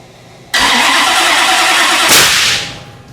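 A single violent engine backfire in a garage bursts out suddenly, then a second sharp blast follows and the roar decays over about a second, loud and close.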